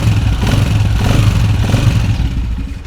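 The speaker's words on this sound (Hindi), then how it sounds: "बाइक की आवाज़ बिल्कुल 0 मीटर की तरह हो चुकी है।" Close, loud idle of a Honda CG125 motorcycle engine after a tappet adjustment, with an even, rapid single-cylinder thump and light mechanical clatter running steadily for a few seconds, no talk.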